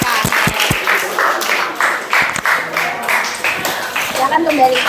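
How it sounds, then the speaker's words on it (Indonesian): A classroom of students applauds student groups, steady crowded clapping filling the room for several seconds at a fairly close, loud level, with voices mixed in. "silakan berikan tepuk tangan untuk apresiasi kepada mereka"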